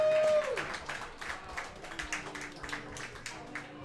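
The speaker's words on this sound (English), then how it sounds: "If we can give my grandfathers a round of applause." Audience applause for a guest's grandfathers at an indoor event, steady moderate clapping with a faint crowd murmur, fairly distant and even throughout.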